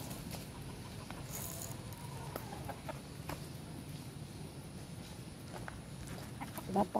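Backyard chickens cluck softly while being fed banana, their low calls and pecking patter running steadily under light outdoor background noise, with a brief louder burst near the end.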